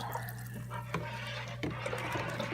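Brine water pours and splashes into a container for curing a homemade ham, a steady liquid stream broken by a few soft knocks and drips, close and fairly quiet with no talking.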